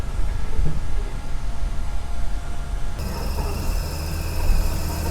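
A 1964 Chevy Nova engine idles steadily with the air conditioning running, a close, continuous low rumble that shifts to a slightly higher, fuller hum partway through as the idle is raised.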